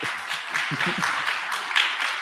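An audience applauds at a speech night for the Ms. Wheelchair America pageant, a dense, even wash of many hands clapping that carries on without a break.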